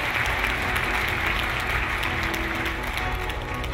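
Audience applause at a school award ceremony honouring a professor, steady dense clapping that stays loud and even for the whole stretch, with no voices on top.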